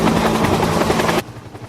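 A helicopter airlifting marine debris off Kahoolawe to Maui thunders close and loud with rapid rotor chopping, then cuts abruptly to a quieter rumble.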